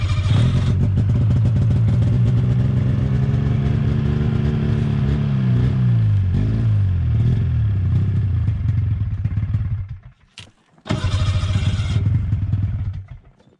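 A snowmobile engine fires and runs at a steady, loud, close idle with a slight wavering rise and fall, cuts out abruptly, then catches and runs again briefly.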